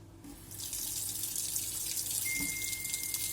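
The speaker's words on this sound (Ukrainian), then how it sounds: "Обов'язково вмикаємо холодну воду, щоб не пошкодити сантехніку." A steady stream of cold tap water runs into a sink, a continuous hissing splash that rises slightly at the start and holds level throughout.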